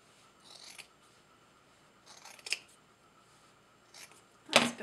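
Scissors snipping through a wool coat, a few short separate scraping cuts spaced a second or two apart, the last one louder and closer, quiet room with no voices.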